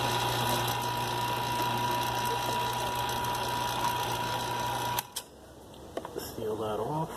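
Vacuum pump evacuating a krypton glow tube, a steady close mechanical drone with a constant hum that cuts off sharply near the end, followed by quieter clicks and a brief voice.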